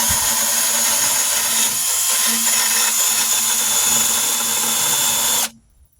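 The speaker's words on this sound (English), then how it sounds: "I have my little drill set up already with a little wire brush on it" A power drill whirs steadily as a wire brush scrapes rust off metal parts, then the motor cuts off abruptly near the end.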